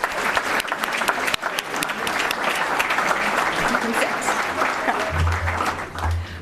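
A crowd at a scholar-athlete awards ceremony applauds steadily, with dense clapping throughout and a low hum in the background near the end.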